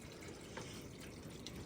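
Running water washes granules off a screen, a faint continuous splashing hiss with soft trickles, steady and without voices.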